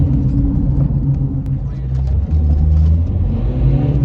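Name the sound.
Dacia Duster engine revving high in first gear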